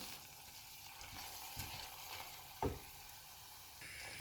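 Lobster sauce being stirred in a pan, a soft steady sizzle with faint scraping and one brief louder clink, close and quiet, with no talk.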